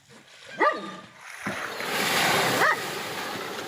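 A dog stands by the water watching a whale and barks twice, with a gap between the barks, over steady waves and surf.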